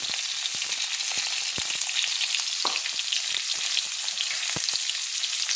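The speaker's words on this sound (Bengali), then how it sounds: "তেলে আমি দিয়ে দেবো আলু।" Potatoes fry in hot oil for a sour fish curry with cauliflower and eggplant, giving a loud, steady sizzle with scattered pops and crackles throughout, close up and with no talking.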